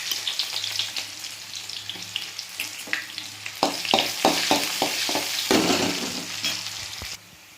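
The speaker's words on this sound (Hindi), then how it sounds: "और अब इसमें डालेंगे प्याज" Onions tossed into oil spiced with fenugreek and fennel seeds sizzle loudly and steadily, with a rush of hiss as they hit the pan and a series of stirring scrapes and knocks throughout.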